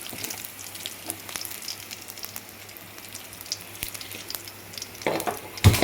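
Mustard seeds and urad dal crackle in hot oil in a kadai as a rasam tempering, a steady soft sizzle with scattered pops that swells louder near the end.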